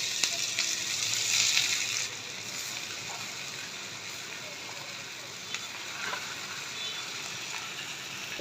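Magur catfish heads drop into hot mustard oil in a frying pan and sizzle loudly. A bright burst of spitting oil opens the sound, then it settles into a steady, close crackling fry with a few faint clinks.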